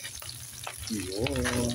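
Leftover shrimp fry in a pan with a steady, close sizzle, and a brief voice is heard partway through.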